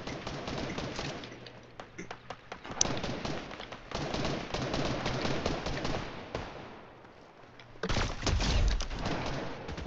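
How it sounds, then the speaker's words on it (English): Gunshots in a Fortnite match, sharp cracks and bursts of gunfire ringing out at a distance amid game ambience, with players faintly talking over it. "Where are these shots coming from?"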